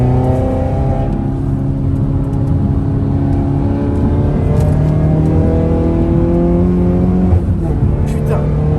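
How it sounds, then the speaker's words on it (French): A small rally car's engine drones close and loud throughout, its pitch rising and falling slightly as it drives on, with people talking over it. "Putain, la petite caisse de rallye quoi"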